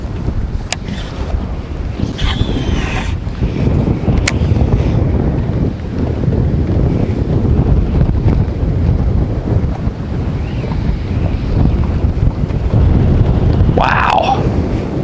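Wind blowing hard across a lake around a bass fishing boat, a loud constant rumble of gusts and buffeting with water noise, plus a brief voice near the end.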